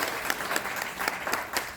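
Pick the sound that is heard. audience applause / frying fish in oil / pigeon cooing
audience applause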